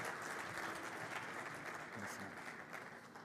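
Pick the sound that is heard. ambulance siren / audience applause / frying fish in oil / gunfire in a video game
audience applause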